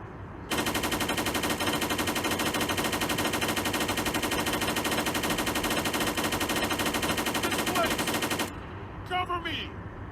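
Continuous automatic gunfire from a video game AI character laying down suppressing fire, a dense, loud, unbroken burst running about eight seconds before cutting off, followed by brief faint clatter.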